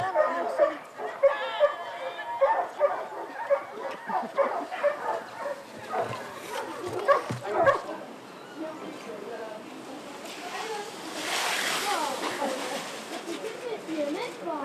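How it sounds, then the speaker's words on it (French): Dogs, including a pure braque pointer, bark and yip repeatedly at a French sports fair while a crowd chatters and someone talks over them, followed by a stretch of louder hubbub. "Regardez les chiens comme ils aiment courir, c'est un braque pur pour Jean-Loup Galési"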